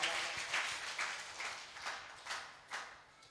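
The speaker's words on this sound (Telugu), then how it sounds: "గట్టిగా చప్పట్లు కొడుతూ ప్రభువును మనమందరము" A church congregation clapping in praise during a worship service, a rhythmic burst of hand claps repeating roughly every half second, moderately loud and somewhat distant, with no talk over it.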